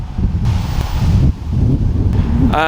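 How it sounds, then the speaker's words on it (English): Strong wind buffets the microphone on a London street in a steady, low roaring rumble with gusty swells, continuing for a few seconds. "It's freaking windy today"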